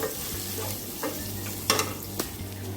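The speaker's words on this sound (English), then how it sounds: "Saute it, fry them nicely." Chopped green chilies sauté in hot oil in a pan, a soft continuous sizzle under a low hum, with a few sharp scrapes and clinks of a spatula against the pan.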